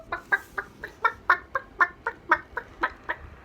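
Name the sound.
reader imitating chickens clucking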